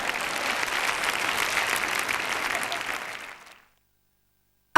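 An audience applauds loudly and steadily in a large hall during a sermon, a dense clapping wash that holds for about three seconds before fading quickly into silence.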